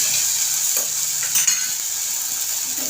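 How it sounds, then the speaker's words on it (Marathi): Onion frying in oil as a tempering for misal pav gives a steady, close hiss of sizzling, with a couple of soft stirring knocks. "आपल्याला ही तेलामध्ये चांगली परतून घ्यायची फोडणीमध्ये"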